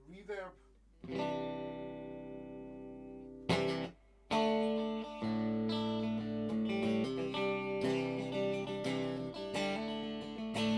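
A Vox AC30 amp with Top Boost carries an electric guitar playing sustained chords and notes that ring out with a washy reverb tail, pausing briefly between phrases.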